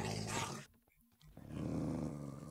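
A dog-like creature in the Minecraft video game gives a low, rough growl, first loud, then breaking off into a brief gap before the rumbling roar returns and holds to the end.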